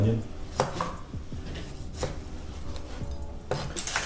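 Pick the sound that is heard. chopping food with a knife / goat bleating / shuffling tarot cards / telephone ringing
chopping food with a knife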